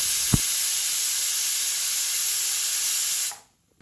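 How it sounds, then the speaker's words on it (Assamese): Pressure cooker on a medium flame, cooking pulao with ghee and salt, lets out a loud, steady hiss of escaping steam that holds for about three seconds after a brief knock, then cuts off abruptly into near silence. "এয়া কুকাৰটো মই এটা মিডিয়াম ফ্লেমত চিটি হ'বলৈ এৰি দিলোঁ"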